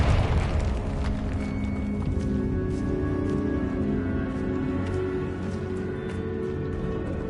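A Confringo fire spell explodes in Hogwarts Legacy: a loud blast at the start, then a long rumbling roar of flames and debris that holds steady to the end.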